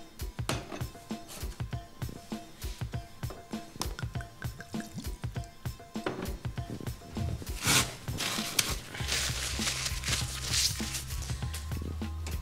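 Vinegar is added to a tahini salad dressing with parsley, coriander and oil being mixed: close wet dripping and splashing, with rapid stirring clicks at first, then a steady liquid rush toward the end.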